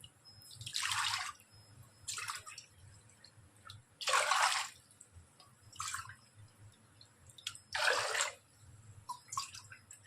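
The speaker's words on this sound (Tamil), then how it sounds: "இந்த கப்பாலே அஞ்சு கப்பு தண்ணி ஊற்றிக்கும்" Water pours in several separate splashing bursts into a cooking pot for pearl millet porridge, each a few seconds of gushing, with brief pauses between pours.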